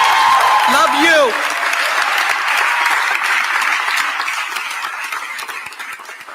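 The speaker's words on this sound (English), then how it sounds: "I want you to give a super round of applause to Crystal Jacob Shipman, our sanitation." Applause from a crowd gathered for a mayor's address on the end of a DC33 strike, a dense, loud burst of clapping that stays steady before slowly fading; a brief whistle or cheer rises near the start.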